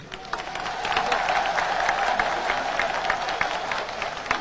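An audience at a patriotic commemoration applauds in a dense, sustained wash of clapping, with scattered louder claps and faint murmurs from the crowd throughout.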